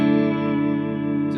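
Clean, sustained chord from an electric guitar through a Supro 1968RK Keeley Custom 12 tube amp, ringing steadily and loud with a rich, full tone and a touch of shimmer before it fades at the end.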